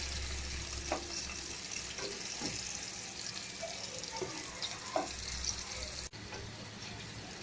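Potatoes frying in hot oil in a home kitchen after a batch of okra, a steady low sizzle with occasional soft stirring clicks, fairly quiet and continuous throughout.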